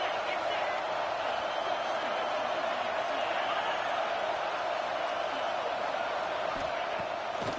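A large college football stadium crowd roars steadily for the defense on a big third down, a dense, continuous wash of distant cheering with no breaks, while a commentator talks over it.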